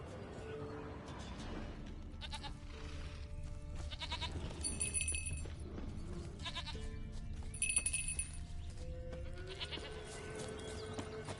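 Repeated goat bleats from The Witcher 3 video game ring out over a steady in-game ambient background, with no one speaking.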